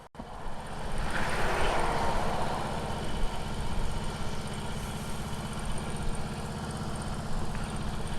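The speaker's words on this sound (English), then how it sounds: "We're gonna ride it right here until we can't ride it no more." A Harley-Davidson Road Glide with a recurring breakdown fault, still moving under its own power, gives a steady, low rumbling engine drone mixed with broad wind rush throughout, with no talking.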